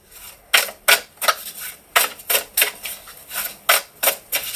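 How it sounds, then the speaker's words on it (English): A tarot card deck is shuffled by hand in a series of sharp riffling bursts, about a dozen quick crisp flutters in an uneven rhythm, close and fairly loud with no speech. "Shuffling the deck in reverse."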